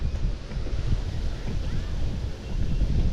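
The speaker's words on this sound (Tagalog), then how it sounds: "ang hangin." Steady, blustery wind roars against the microphone throughout, a dense low rumble with gusts swelling and easing.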